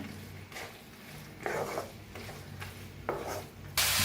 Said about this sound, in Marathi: आता डाळीला मिक्स करून घेऊया